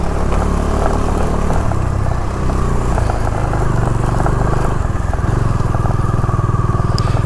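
A motorcycle with worn off-road tyres rides a rough one-kilometre dirt track to a school in Nagaland near the India-Myanmar border. The engine drones loud and steady throughout, with rattling and crackling from the bumpy ground and no voices.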